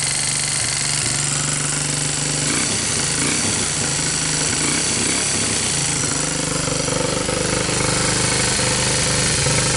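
A Honda TRX200SX ATV engine with loose valves runs loud and close throughout, a continuous rough, rapid clatter with a steady mechanical drone and no voices.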